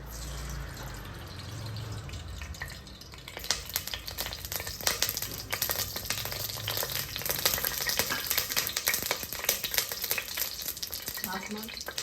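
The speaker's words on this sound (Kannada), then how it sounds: "ಕುಕ್ಕರಲ್ಲಿ ಎಣ್ಣೆ ಹಾಕ್ಬಿಟ್ಟು ಎಣ್ಣೆ ಕಾದಿಟ್ಟು ಸಾಸಿವೆ, ಸ್ಟಾರ್ ಅನ್ನಿಸು, ಚಕ್ಕೆ, ಲವಂಗ, ಈರುಳ್ಳಿ" Mustard seeds, star anise, cinnamon, cloves and chopped onion fry in hot oil inside a pressure cooker for fenugreek-leaf pulao, giving a close, steady crackling sizzle with intermittent scraping and clinking of stirring.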